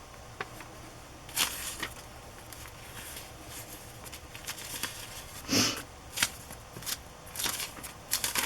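Old 1940s wrapping paper taken from a scrapbook crinkles and rustles as it is handled for a craft journal, with scattered sharp crackles and soft shuffling bursts up close against a quiet room.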